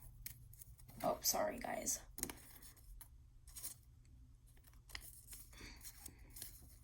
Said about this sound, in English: I am going to cut around this whole sheet of paper.